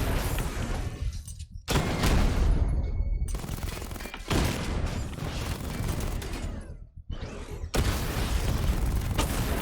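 Loud, dense bursts of gunfire and explosions strike a Rattler vehicle in Batman: Arkham Knight, coming in several heavy waves broken by brief silent gaps.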